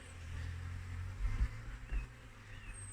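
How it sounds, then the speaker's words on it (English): A steady, dense buzzing of many angry honey bees, loud and close, with a low droning hum beneath and a few louder swells. "I know you're angry bees now."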